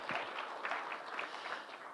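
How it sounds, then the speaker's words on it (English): An audience at a year-end career program event applauds, a dense, even wash of many hands clapping, fairly faint and distant, holding steady throughout. "So I want to give you a big round of applause for attending throughout the year."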